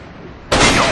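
Incoming enemy gunfire in the shooter game Brink hits as one sudden loud burst that cuts in after a quiet moment and holds to the end.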